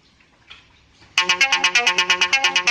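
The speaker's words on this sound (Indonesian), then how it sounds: "Nah ini handphone saya bunyi nih" A Xiaomi phone set to ring remotely through Google Find My Device first gives faint soft tones, then breaks into a loud, steady, fast-pulsing ringtone that repeats about a dozen times.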